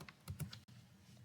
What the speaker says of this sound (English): Click on it and start typing